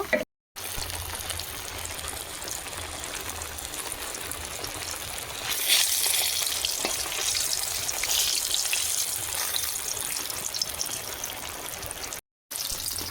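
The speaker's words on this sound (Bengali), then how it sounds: "ভেটকি মাছ এইভাবে ভেজে নেব" Bhetki fish frying in hot oil gives a steady, close crackling hiss that swells louder about halfway through, with no talking.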